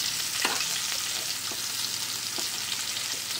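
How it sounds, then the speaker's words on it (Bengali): Pointed gourd (kakrol) fries in a pan with a steady, close hiss of sizzling oil, broken by a few soft stirring scrapes, with no voices. "কাঁকরোলও ভাজছি দেখো।"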